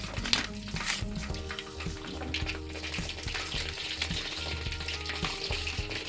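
Previously fried sea fish returned to hot oil for a second restaurant-style fry, a continuous bubbling sizzle with soft crackles and intermittent stirring clinks, close and moderately loud.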